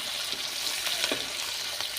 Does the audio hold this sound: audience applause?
no